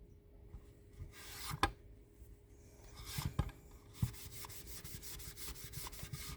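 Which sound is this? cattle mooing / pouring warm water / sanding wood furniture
sanding wood furniture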